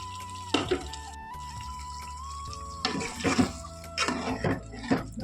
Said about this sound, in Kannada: ಒಂದಿಷ್ಟು ನೀರು ಹಾಕ್ಕೊತೀನಿ